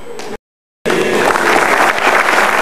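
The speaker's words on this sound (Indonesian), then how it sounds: "Nggak perlu tepuk tangan" A stand-up comedy audience breaks into loud, dense applause that starts abruptly after a short silence and continues steadily, close and filling the room.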